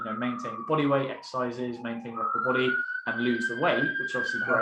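A police siren wails outside as a steady, rising tone, partly masked by someone talking close over it throughout.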